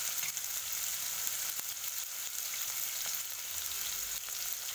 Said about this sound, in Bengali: সবজিগুলোকে একটু ধীরে ধীরে সুন্দর করে ভেজে নেব।